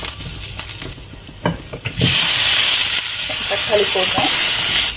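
Ingredients sautéing in butter in a pan for a pasta dish, with stirring: quiet scraping at first, then a loud, steady broadband sizzle that starts suddenly midway and continues to the end.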